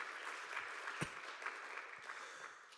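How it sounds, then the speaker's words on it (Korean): Church congregation clapping in praise during a youth worship service, a faint, fairly distant patter of applause with a few sharper individual claps standing out. "우리 하나님께 영광의 박수 올려드리겠습니다."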